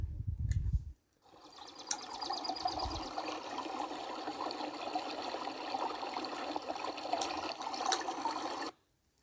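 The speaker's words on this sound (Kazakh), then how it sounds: "бұл сылдырлап ағып жатқан судың дауысы" Babbling, flowing water runs steadily for about eight seconds, a continuous close splashing trickle with no voices.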